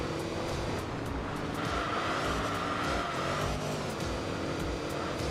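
A Jaguar V12 racing car in Enthusia Professional Racing drones steadily at high revs, with a continuous engine roar and faint tire noise under a flat, unbroken race soundscape.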